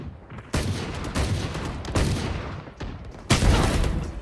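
Rapid bursts of automatic gunfire in a first-person shooter game, loud and close, with several sharp onsets and rattling volleys running almost without a break.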